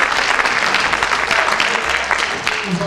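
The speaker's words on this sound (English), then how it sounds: "Let's give him a round of applause." Loud, dense applause from an audience at a criminal justice summit forum with gubernatorial candidates, steady clapping throughout with a hint of crowd noise.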